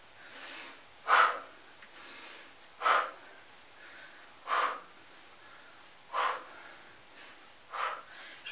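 Forceful exhales during a HIIT leg exercise come in a steady rhythm of five sharp breaths, roughly one every second and a half, close and alone.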